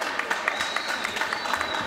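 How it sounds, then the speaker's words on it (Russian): An arena crowd at an MMA fight applauds after a round, steady clapping with crowd murmur at a moderate, somewhat distant level. "Да, заслуженные аплодисменты."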